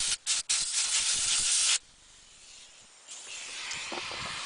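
Compressed air nozzle blasting through an HVLP spray gun during cleaning: loud, close hissing bursts, a couple of short puffs, then a long blast, dropping to a softer hiss before a renewed airflow.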